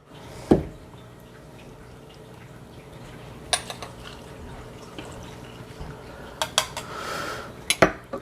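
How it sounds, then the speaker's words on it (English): A spoon clinks and scrapes in a glass while a mint julep of mint leaves and Woodford Reserve bourbon is stirred, with a few sharp, separate taps over a quiet background. "we're going to give that another little stir there"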